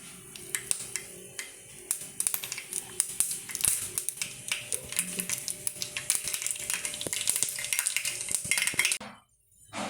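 Mustard seeds splutter in hot coconut oil for a sardine curry, giving dense, rapid crackling and popping that stays close and busy before a brief drop to near quiet at the end.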